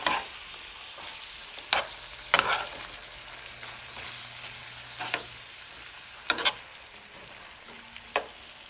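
Hamburger beef with seasonings sizzles softly in a hot pan on medium-high heat, with several sharp scraping stirs at irregular intervals over the quiet, steady frying hiss.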